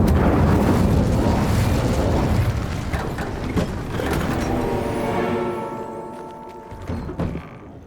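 An Incendio fire-spell explosion in Hogwarts Legacy opens with a loud roaring burst that rumbles on and slowly fades, with a smaller crackle near the end.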